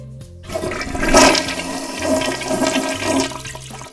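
A toilet flushes close by, a sudden rush of water swelling and then draining in a steady gurgle over several seconds, with no speech.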